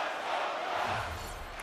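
A hockey arena crowd from the NHL 23 video game roars in a broad, steady swell of cheering voices, loud and sustained across the whole moment.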